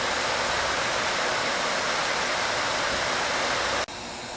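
A vacuum blowing air into a forge melting aluminum cans gives a loud, steady broadband roar, like rushing wind, that runs unbroken and then drops off sharply near the end.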